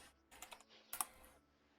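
Close, quiet clatter of a computer keyboard during a video game, with short irregular bursts of keystrokes separated by brief pauses and no voice.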